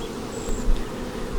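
Honeybees buzz steadily at an opened nuc hive during a walkaway split, a close, continuous insect drone with one bee swelling louder as it flies near.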